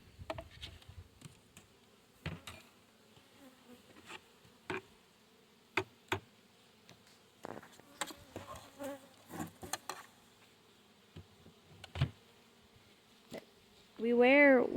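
Honeybees buzz around hive frames being worked by beekeepers in white bee suits, a faint, steady insect hum broken by scattered clicks and knocks, with a louder close burst at the end.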